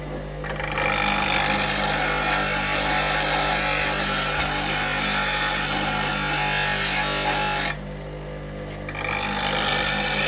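A woodturning roughing gouge is held against a bench grinder wheel, giving a steady, loud grinding whine that runs almost without a break and dips briefly near the end before picking up again.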